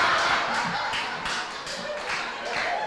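Audience clapping at a Barbados Labour Party branch meeting in St. John, a dense patter of many hands sustained through the moment, moderately loud and fairly close.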